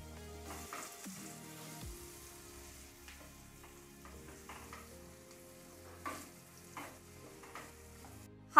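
Red and green capsicum and spring onion stir-fry in a hot pan, with a soft steady sizzle, scraping stirs and light clanks of a utensil against the pan, close by, with no one talking.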